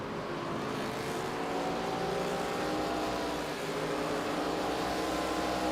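Pro Cup Series race cars battling at Richmond in the closing laps, a continuous layered engine roar from several cars at middle distance, steady in level throughout.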